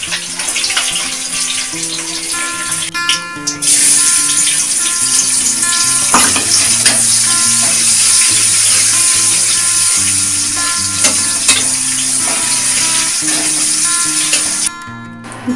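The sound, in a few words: fish frying in a pan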